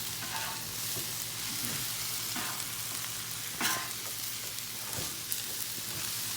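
Fried rice with beef frying on a flat grill, a loud continuous sizzle broken by several sharp metal scrapes of a spatula across the hot surface, close up with no talking.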